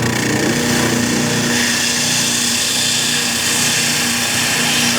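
A power sander smooths wood for a trestle table, producing a loud, continuous, even whirring drone that runs close and uninterrupted for the whole stretch.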